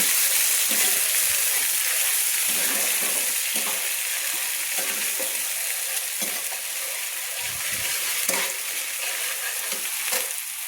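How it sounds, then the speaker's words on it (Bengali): Ginger and green chili paste stir-fried in hot oil for a vegetarian curry, a loud continuous sizzle with intermittent soft spatula scrapes against the pan. "আদা কাঁচা লঙ্কাটা আমি দিয়ে দিলাম দিয়ে আমি একটু ভালো করে নেড়ে নিচ্ছি"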